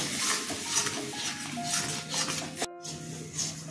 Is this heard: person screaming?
no